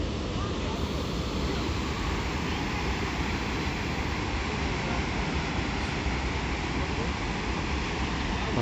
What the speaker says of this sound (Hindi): पानी भी जैसे गिर रहा है वो भी धुआं जैसा निकल रहा है।